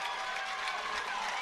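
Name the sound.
crowd cheering after a lacrosse goal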